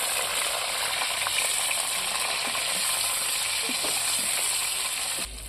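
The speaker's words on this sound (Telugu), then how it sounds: "ఇప్పుడు అదే ఆయిల్లో కొంచెం కరివేపాకు కరివేపాకు టమాటాలు కొంచెం జీలకర్ర వేసుకొని చేసుకోవాలండి" Curry leaves, tomatoes and cumin fry in hot oil for a stuffed brinjal curry, giving a steady, dense sizzle that runs unbroken and drops off sharply just before the end.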